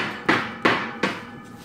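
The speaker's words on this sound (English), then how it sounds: "I'll just give it a tap." A hammer taps a plywood divider panel into a horse stable frame, three firm separate knocks roughly a third of a second apart, close and ringing briefly, a fainter fourth at the end.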